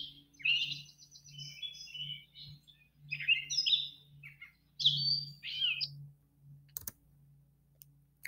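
A gray bird with a black head and a small brown spot sings a complex song in a summer setting in southeastern Wisconsin, giving several bursts of varied high, chattering phrases separated by short pauses over a low steady hum.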